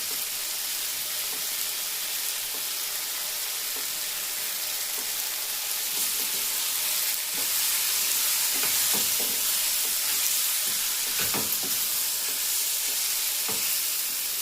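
Grated coconut sizzling and frying in a pan for Udupi-style idli sambar, a steady close crackling hiss with occasional stirring scrapes and sharper pops, no voices.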